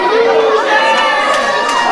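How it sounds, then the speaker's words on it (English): Wrestling crowd at a women's match clapping and cheering continuously, a dense, loud wash of hands and voices with children's shouts mixed in. "The crowd clapping away."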